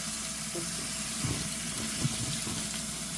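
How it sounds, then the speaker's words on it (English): Potatoes being rinsed under a running kitchen tap, a steady hiss of flowing water with soft splashes and knocks as they are handled in the stream, close and continuous without talk. "I'm gonna rinse these off real well."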